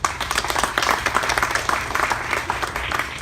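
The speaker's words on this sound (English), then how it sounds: "and we should all applaud that we're here." An outdoor rally crowd claps together in a dense, fairly loud burst of applause that carries on steadily, with faint voices mixed in.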